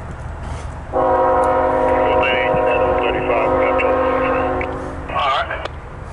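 A CSX intermodal freight train sounds a loud, sustained multi-tone horn for about four seconds as it passes nearby, with rumbling rail noise beneath and a brief voice near the end.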